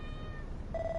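Cat meows in the video game Dragon Quest Builders 2, a short, faint tonal call rising out of a constant low game background hum, with no talking.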